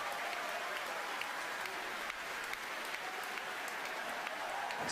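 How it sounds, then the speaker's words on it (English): Employees at a SpaceX Falcon Heavy launch cheer and applaud together, a continuous, fairly faint roar of many voices and hands with no clear breaks. "Again, the cheering by all the people who work there,"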